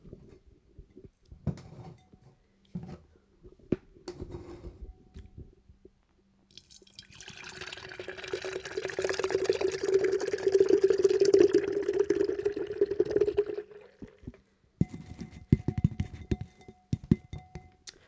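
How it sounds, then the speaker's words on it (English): A few clinks and taps, then a canned Monster Killer Brew Mocha Loca coffee drink poured steadily into a glass for several seconds, followed by more handling clatter. "And let's give this a pour."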